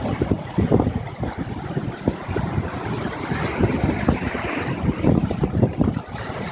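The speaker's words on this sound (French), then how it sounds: "Encore une vague qui va éclater sur le rocher là." Ocean waves crashing on rocks along the Southern California coast, with a steady roar of surf and strong wind noise on the microphone, and repeated bursts of churning water fairly close.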